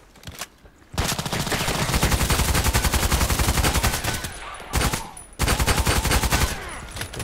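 Rapid bursts of automatic gunfire in a sniper shooter video game, loud and sustained with brief pauses between volleys, no talking over it.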